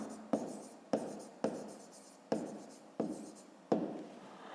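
A pen writes out a fifth-grade math exercise by hand, making six short, scratchy strokes at a steady pace. Each stroke starts crisp and fades to a soft rasp, close and fairly quiet, with no talking.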